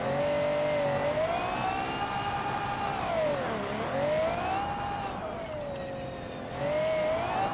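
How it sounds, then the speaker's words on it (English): A race car engine in the BeamNG driving game, compared to an F1 car, holds a high, sustained whine that rises and dips in pitch as it revs. It is loud and continuous, with no talk. "the sound of this thing is wild. Like, it kind of sounds like an actual F1 car."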